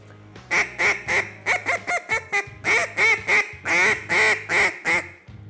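A handheld duck call imitates a hen mallard and whistling ducks: a close, loud run of about a dozen and a half raspy quacks in short, uneven bursts, with no talking.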